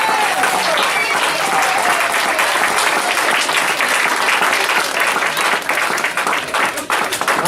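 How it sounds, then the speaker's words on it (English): A crowd applauds a pair of debate teams with loud, dense, sustained clapping that keeps steady and full throughout. "Let's give them a round of applause."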